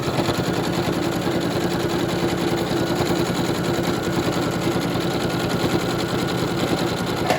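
A sewing machine stitches a fabric AFNOR face mask, a fast, steady mechanical chatter heard close up and unbroken throughout, with no voices.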